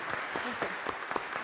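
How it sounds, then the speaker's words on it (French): A congregation at a Christmas Mass claps for a children's choir, producing a faint, steady patter of applause from a fairly distant crowd, with some quiet voices underneath. "merci à la chorale des enfants, on l'applaudit, hein?"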